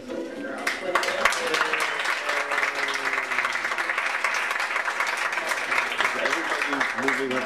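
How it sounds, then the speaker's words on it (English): An audience at a 2005 school graduation in Cheshire, Connecticut claps for teachers and girls, steady, dense applause from many hands that continues throughout, with some voices mixed in. "give a big round of applause to the teachers and the girls"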